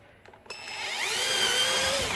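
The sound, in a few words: power drill drilling holes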